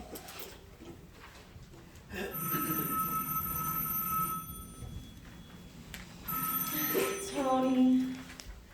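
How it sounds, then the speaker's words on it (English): Old-fashioned telephone bell ringing in a radio play, two separate bursts of bright metallic ringing with a short pause between, fairly loud against a quiet room. "wasn't that the telephone ringing?"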